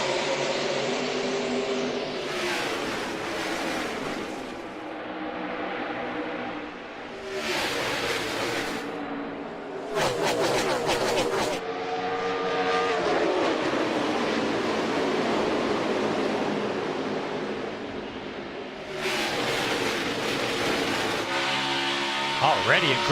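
NASCAR stock cars race in the AAA 400 at Dover, with several loud, roaring bursts as the pack sweeps past over a steady background rumble, while a commentator talks throughout.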